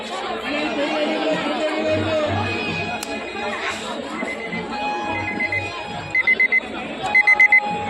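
An alarm clock rings in short bursts at a market stall during the Shivaratri celebrations in Mumbai, cutting through steady crowd chatter, with people talking nearby.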